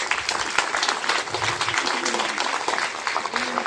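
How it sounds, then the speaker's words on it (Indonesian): Students and teachers clapping at a Monday flag ceremony at a public senior high school, a brief outdoor burst of applause with scattered voices beneath it. "Tepuk tangan untuk mereka."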